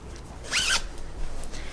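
A zipper on a baby zip-up sleeper is pulled in one quick, close, soft stroke against a quiet room.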